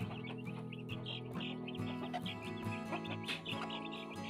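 Newly hatched free-range village chicks and hens in a backyard flock, with dense overlapping chirps and peeps and occasional low clucks continuing steadily throughout at close range.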